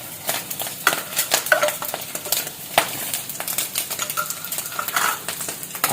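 Corn kernels stirred and scrambled in a hot pan, with steady scraping and light clatter of a utensil against the pan over a soft sizzle, continuing throughout.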